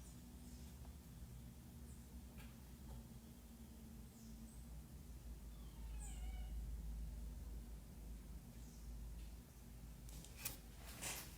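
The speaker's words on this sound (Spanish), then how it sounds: "Mi gata, ¿usted qué hace en el baño, esa gata?" A house cat meowing in a bathroom, a few short, faint, high mews spread across a quiet, hissy room with a low hum, no talking.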